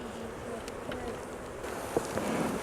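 Bees buzzing steadily in a low, droning hum, with a few brief bumps and knocks along the way; no one speaks.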